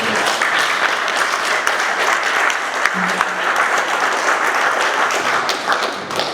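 Dense audience applause and clapping fills a Stonebwoy event, loud and steady across the whole stretch, with scattered cheers mixed into the crowd noise.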